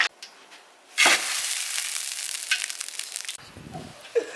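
Pork lard renders in a pot with millet added, a loud hissing sizzle that bursts up suddenly and crackles steadily, then drops away near the end with a brief muffled scrape.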